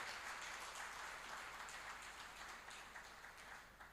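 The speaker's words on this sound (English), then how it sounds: "I think you need to clap" Faint, steady applause from the audience at a GIRSAL fifth anniversary celebration, a distant wash of clapping that slowly tapers off.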